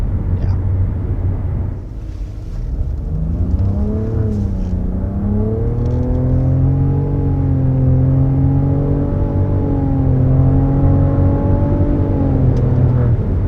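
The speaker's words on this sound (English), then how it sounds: "So that was a full-blooded acceleration" A 2022 Nissan Rogue with a turbocharged three-cylinder engine accelerates hard up to 65 mph from inside the cabin, its loud steady drone rising in pitch and easing as it climbs, alone without talk.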